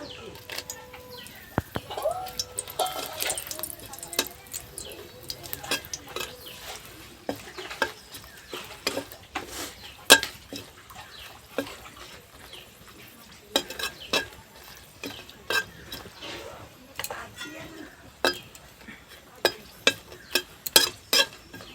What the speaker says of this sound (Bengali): একটা শুকনো লঙ্কা আগে ভেজে উঠিয়ে নেবো